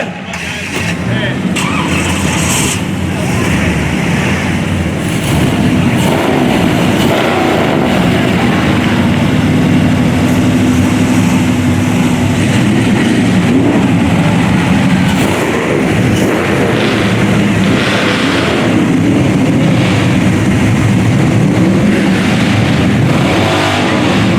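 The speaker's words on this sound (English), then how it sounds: "Hold on, everyone's going to start their engines." Several car engines crank and rumble to life together at an outdoor auto reunion car show, then keep running in a loud, continuous roar with voices mixed in.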